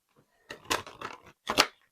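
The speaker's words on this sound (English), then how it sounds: "One more good shuffle." Chunky oracle cards are shuffled during a card reading, giving a few short papery riffling bursts in quick succession, close and moderately loud with brief pauses between them.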